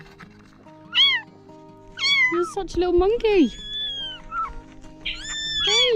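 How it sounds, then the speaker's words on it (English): Small abandoned baby kittens meow repeatedly in high, wavering cries close by, several calls overlapping, while a person speaks to them in between. "We found 3 baby kittens last night"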